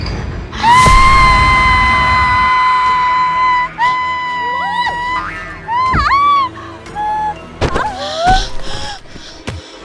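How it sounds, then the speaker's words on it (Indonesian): Loud, sustained cartoonish screams and wailing cries, with warbling pitch swoops and bouncy sound effects, several outbursts in a row. "Kamu dengar suara teriakan itu kan Jif?"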